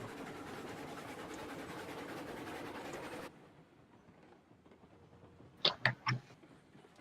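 Betsy, a small steam locomotive in the video game Railroads Online, shunting: a steady rolling rumble for about three seconds, then quiet, then a few sharp clanks near the end, no voices.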